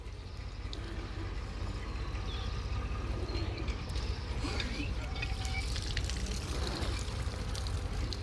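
Cold water runs steadily from a tube well, a constant broad rushing splash close by that holds at an even level from start to finish, with faint higher splatters over it.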